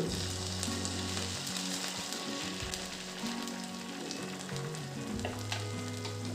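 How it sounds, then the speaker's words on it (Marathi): Fasting dhirde batter spooned into a hot oiled pan sizzles steadily and close, a dense crackling fry with no voices and a low hum running underneath. "धिरड्याचं पीठ असं आपण चमच्याने थोडं थोडं टाकून घेऊ"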